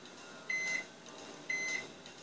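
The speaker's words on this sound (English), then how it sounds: "They should start selling beeping microwaves as an option." A microwave oven beeps to signal its timer has finished: two long, steady electronic tones about a second apart, moderately loud over a constant background hum, with no talking.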